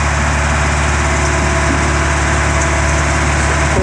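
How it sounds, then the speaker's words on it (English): A Caterpillar 416B backhoe diesel engine runs at a steady idle, a loud continuous low rumble with constant mechanical vibration and no breaks, heard up close with no speech. "No blow by oil leaks. Just a good running motor. Starts every time."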